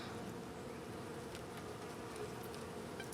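Honey bees swarm-buzzing around an opened hive during an inspection of a new queen's eggs and brood, a steady dense hum with sharper passing whines of individual bees close by, continuous throughout.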